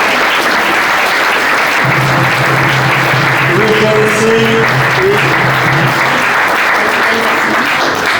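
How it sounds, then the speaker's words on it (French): A crowd applauds at a mayor's New Year wishes ceremony, a continuous broad wash of clapping filling the room for eight seconds while someone speaks briefly over it. "on peut les applaudir aussi"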